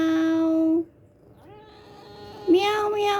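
A pet cat gives several drawn-out, sing-song meows close up, with one long call, a short pause, then rising, wavering cries.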